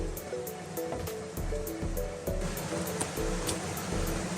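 Water rushing in a stream along a hiking trail in See Canyon, Tonto National Forest, a steady broadband wash with irregular splashy bursts, close and continuous with no talking.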